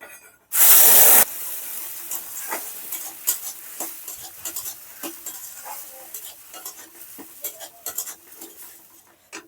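Blended ridge gourd paste hits hot oil in a pan with a sudden loud burst of sizzle, then settles into quieter frying crackle with scattered stirring and utensil clicks on the pan.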